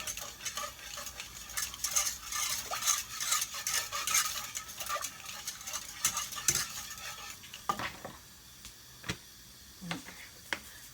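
A small whisk rapidly stirs ingredients in a bowl while making a chicken and vegetable scraps dish, giving steady close scraping and clicking for most of the stretch, then a few sparse taps as it slows.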